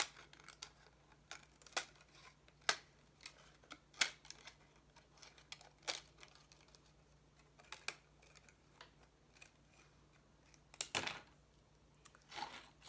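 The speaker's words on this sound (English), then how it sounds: "I'm just going to take my scissors and I'm just going to cut" Scissors snip and crunch around the neck of a plastic bottle in scattered, irregular cuts, close up and fairly quiet, with pauses between snips.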